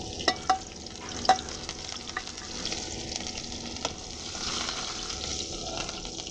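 Chopped chili and garlic fry in hot oil in a home kitchen pan, a low steady sizzle broken by a few sharp clinks and scrapes as a spatula stirs them.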